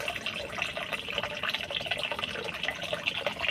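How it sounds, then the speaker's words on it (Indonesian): Water streams steadily into an eel pond for circulation, a close, continuous splashing and gurgling flow with no talking. "airnya saya alirkan. Yang fungsinya atau gunanya untuk sirkulasi di kolam belut ya"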